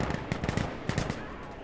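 Gunfire from the first-person shooter Insurgency Sandstorm: a few quick bursts of shots in two clusters over a low background, with faint voice chat underneath.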